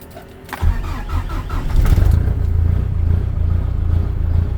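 A Cummins QSB 4.5 diesel in a Ram 1500 cold-starts near and loud at about 5 degrees coolant: a brief cranking burst catches into a heavy, rough, steady idle rumble that continues alone.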